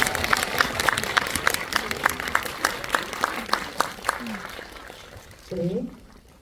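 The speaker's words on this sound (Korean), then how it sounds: "들어오시면 큰 박수 부탁드리겠습니다." Audience claps at a film screening talk in a Seoul cinema hall as the actress enters, a distinct, fairly faint round of handclaps that tapers off before a host speaks.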